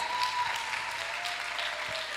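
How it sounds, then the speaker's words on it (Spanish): A church congregation applauds during a sermon, steady even clapping from many people that sounds somewhat distant and soft, with a faint tone running underneath. "denle un aplauso a Dios."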